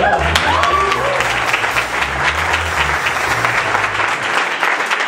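Church congregation offering sustained applause to the Lord, dense steady clapping from many hands filling the room, with a few faint voices mixed in.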